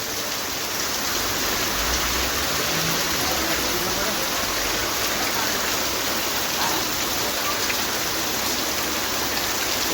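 Heavy rain pours down with water running along a road, making a dense, constant hiss of falling drops and flowing water that stays loud and even throughout.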